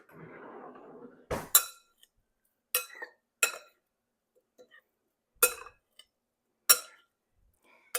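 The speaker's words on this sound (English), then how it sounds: "now I'm just going to grab a spoon and toss this around" A spoon clinks against a bowl while tossing shrimp salad with lime, cilantro, salt and pepper: several sharp, separate metallic clicks spaced a second or so apart, close and clear, after a soft brief rustle.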